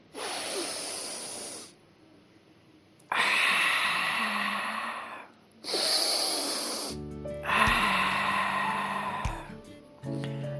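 Deep breaths drawn in and out during a calm guided relaxation, forming several long hissing swells separated by pauses, close and moderately loud, with a low tonal hum entering near the end.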